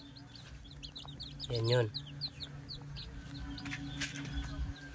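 Crossbred chickens on a small farm, soft clucks and chirps close by with one louder rising call, over light background noise and a brief spoken voice.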